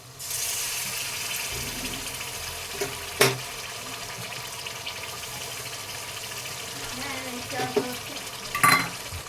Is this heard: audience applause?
no